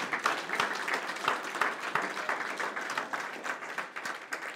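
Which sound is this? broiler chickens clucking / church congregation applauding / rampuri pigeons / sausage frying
church congregation applauding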